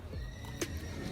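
Horses gathered at the start of a hike up Pacaya volcano in Guatemala; one gives a short, fairly faint whinny amid low background hoof shuffling, no speech.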